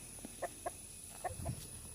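Chickens cluck in short, evenly spaced calls, five or six quiet bursts over a faint background hum, with no one speaking.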